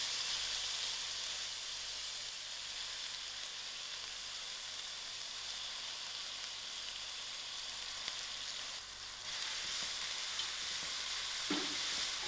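Chopped onions sizzle in two tablespoons of hot oil in a pan over moderate heat for lamb mince, giving a steady, close frying hiss with a faint stir and clink near the end.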